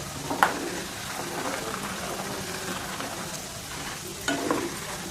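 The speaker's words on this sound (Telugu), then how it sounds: "ఎప్పుడైతే టిక్ టిక్ టిక్ అని శబ్దం వస్తుందో అప్పుడు బాగా వేగుతున్నట్టు లెక్క" Peanuts frying in hot oil for pakoda, a soft continuous sizzle with a few sharper crackles and stirring clinks, close by and without speech.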